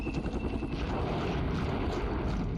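Helicopter rotor and engine from the Flashpoint Campaigns Southern Storm war game, a steady dense whir held at constant level through the whole span, with no talk over it.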